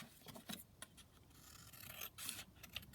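Scissors cutting paper for a handmade junk journal, a few quiet close snips and rasping slides of blades through sheets, soft and intermittent with no talking.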